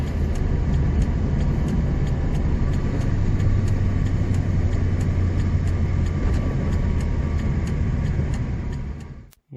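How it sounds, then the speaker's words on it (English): A Chevy Nova drives along a speedway drag strip, its engine a steady loud rumble and drone heard from inside the car, holding constant before cutting off sharply at the end. "I'm gonna pull my car right over there"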